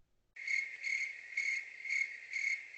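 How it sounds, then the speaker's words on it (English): Cricket chirping sound effect added in editing, a clean, close insect trill arriving in five evenly spaced pulses after a moment of silence. "We're going to go ahead and add crickets there."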